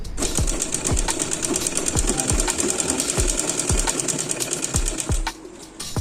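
A sewing machine runs steadily while stitching the shoulder seams of a top, its close, rapid mechanical chatter carrying a regular thumping beat that pauses briefly near the end.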